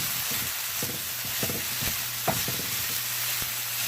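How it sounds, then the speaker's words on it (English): Cilantro is stirred and mixed in a frying pan for smothered potatoes, with a spoon scraping at an irregular rhythm over a steady, close sizzle. "So after you add the cilantro, just keep stirring and mixing it for maybe a good 5 minutes"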